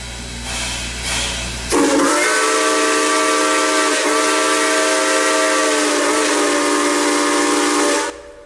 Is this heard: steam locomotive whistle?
yes